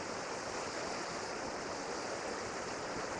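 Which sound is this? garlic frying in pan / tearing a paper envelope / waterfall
waterfall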